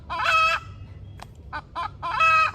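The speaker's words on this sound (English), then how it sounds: "Even Pancake the chicken is upset about this" A chicken clucks nearby in loud, harsh squawking bursts at the start and end, with a few softer short clucks between them and no talk.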